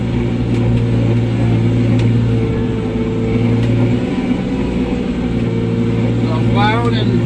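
A snow plow truck engine rumbles steadily and loudly while plowing soft, hard-frozen ground and grass late in the season, a constant low drone running throughout with a brief shift in tone midway.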